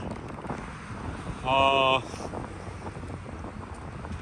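Wind gusting outdoors on a breezy, fine day, a steady broadband rush close on the microphone, with a brief tonal beep-like burst in the middle.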